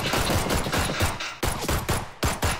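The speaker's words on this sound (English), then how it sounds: "Oh shit, I'm getting shot." Sustained loud automatic gunfire in the PUBG battle royale game, rapid bursts of shots separated by brief gaps, close and dominant with no talk.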